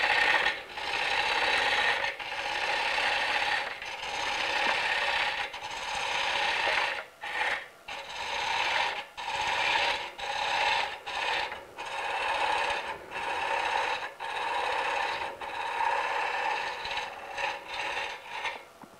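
A Hunter Viceroy carbide tool cuts a wooden bowl's foot on a spinning lathe, giving a steady, loud broadband scraping hiss in continuous passes, broken by brief pauses and short lifts of the tool across the recording.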